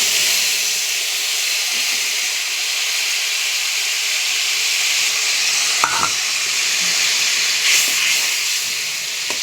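Tomatoes, green chilies, turmeric, salt and sugar hit hot oil in a pan while a Bengali fish dish with poppy seeds is cooked, giving a steady, loud sizzle with a few brief clatters near the middle.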